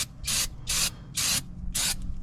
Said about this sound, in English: Spray some brake cleaner on the rotors